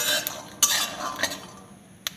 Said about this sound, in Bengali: এইভাবে আস্তে আস্তে নাড়াচাড়া করে নিতে হবে নিলেই সুন্দরভাবে ভাজা হয়ে যাবে